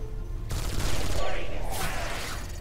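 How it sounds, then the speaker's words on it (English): Automatic gunfire from an upgraded assault rifle in the sci-fi video game Space Siege, a dense sustained burst of rapid shots running about two seconds, loud and close. "This assault rifle is hilariously upgraded."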